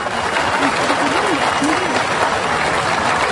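At an environmental festival in Taşucu, Turkey, a crowd bursts into loud, continuous applause that holds steady for several seconds, with a few voices calling out briefly beneath the clapping.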